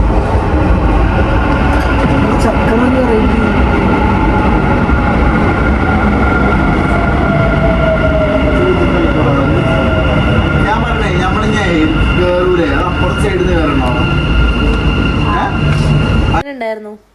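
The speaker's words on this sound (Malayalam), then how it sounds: "നമ്മളെ മെട്രോ അങ്ങോട്ടും ഇങ്ങോട്ടും പോകുന്നു" A Dubai Metro train passes, a loud, sustained rumble with rising and falling whine that cuts off abruptly at the end.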